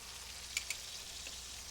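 Pork shoulder sears with toasting cumin and paprika in a braiser, a soft steady sizzle with a couple of faint pops, quiet and continuous with no talk.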